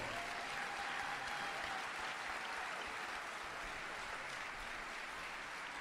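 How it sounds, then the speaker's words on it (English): Loud, sustained applause from a large audience at a live event in Paris, welcoming a speaker onto the stage, a continuous dense wash of clapping that holds steady from start to finish. "On peut l'applaudir très fort."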